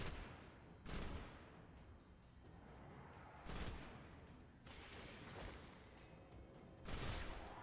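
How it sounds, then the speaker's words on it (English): Pulse rifle fire in the video game Destiny, set on the Moon: four or five separate loud bursts spaced a second or two apart, over a steady rumbling game background with no talk. "Dude, this pulse rifle is working it."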